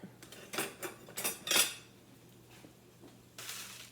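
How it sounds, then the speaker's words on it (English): Roasting vegetables tossed in a metal pan, a few clattering scrapes and clinks of utensils on cookware, close and fairly loud, then quieter kitchen background. "I'm gonna check on the veggies. They are coming along nicely. I'm gonna toss them a little bit."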